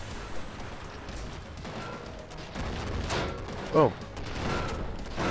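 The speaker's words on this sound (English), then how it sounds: "Rapid fire sniper." Rapid-fire sniper gunfire from the video game Cortex Command, a dense run of sharp shots and clattering mechanical noise, with a louder burst near the end; a person briefly exclaims.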